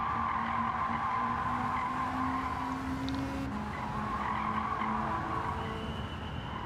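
A race car in Gran Turismo 7 on the Tokyo Expressway brakes hard, tires skidding and squealing over a steady engine drone, a sustained loud screech with a brief burst midway and no talking.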